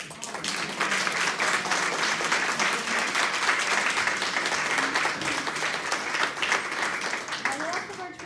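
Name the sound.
audience applause at a tea party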